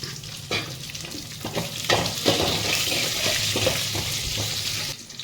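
Chopped onions and garlic fry in hot oil for an ivy gourd curry, giving a steady, close crackling sizzle with occasional scraping stir strokes throughout.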